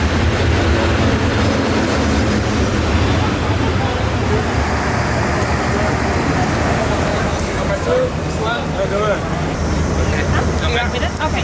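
A steady, loud rumble of a train in motion fills the whole stretch, constant and unbroken, with no clear voices.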